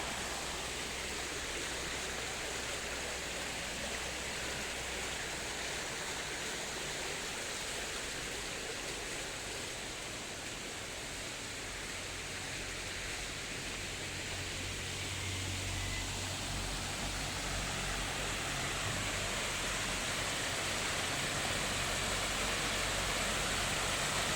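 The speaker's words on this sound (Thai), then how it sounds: "เป็นส่วนน้ำตกในบริเวณรอบๆนะฮะ" Waterfall in the water garden of a Thai temple, a constant broad rushing roar of falling water that swells a little toward the end, with no voices.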